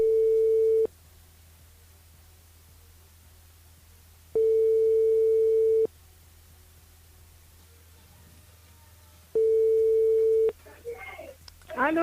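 A telephone line rings during a live radio call-back on a French FM show, with three long, steady tones spaced several seconds apart and faint pickup noises at the end.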